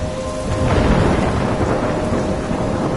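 Thunder rumbles through heavy rain in a stormy scene from the Life is Strange video game, a loud, dense, continuous downpour with a deep roll swelling near the middle.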